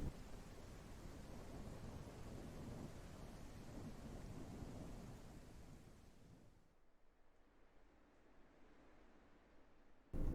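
A thunderstorm in the survival game Animalia Survival: steady heavy rain with rumbling thunder roars loudly for several seconds, then eases to a quieter hiss before a sudden loud swell at the very end.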